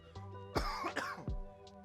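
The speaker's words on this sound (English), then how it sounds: "so I do still have a cough" A person who is sick coughs twice in quick succession, close and fairly loud, over a faint background hum.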